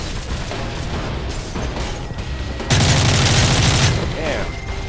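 Rapid gunfire from the Modern Warfare 3 campaign, a dense burst of automatic fire roughly halfway through, set against steady battle noise and scattered shots, with voices talking over the action.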